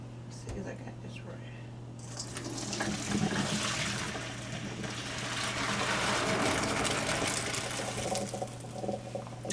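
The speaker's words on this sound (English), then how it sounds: "I'm fixing to pour the peas up in the strainer." Fresh peas and water pour into a strainer at a kitchen sink in a steady rushing splash that swells and holds for several seconds, with a low steady hum underneath and someone talking quietly over it.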